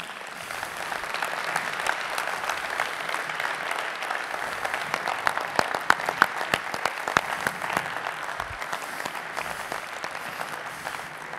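Sustained warm applause from an audience greets a team coming on stage at a pitch event, steady and fairly loud for the whole stretch, with sharper individual claps cutting through in the middle.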